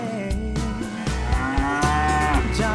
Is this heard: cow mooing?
yes